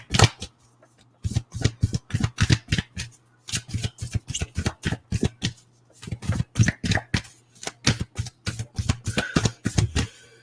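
Tarot cards are shuffled in repeated bursts of crisp riffling and flicking, close and fairly loud, with short pauses between bursts and a low steady hum underneath.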